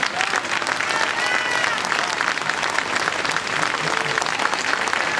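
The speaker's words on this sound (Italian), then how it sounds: "Un applauso a lei." An audience at a live event in Cagliari applauds: dense, steady clapping from a crowd fills the whole stretch, loud and sustained, with a few voices under it.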